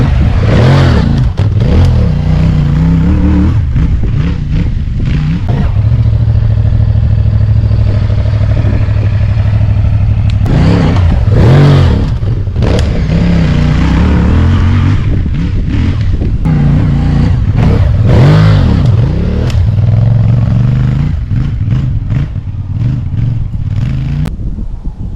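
A CFMOTO 450MT adventure motorcycle on a training track riding over a small kicker, loud engine revving and surging repeatedly with clattering bumps throughout, close and continuous.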